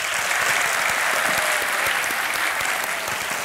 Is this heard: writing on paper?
no